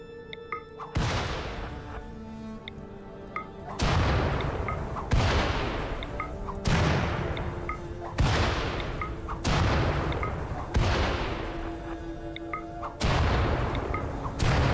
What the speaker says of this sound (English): I didn't realize it was going to explode that quickly